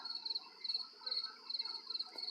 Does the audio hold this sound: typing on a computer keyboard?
no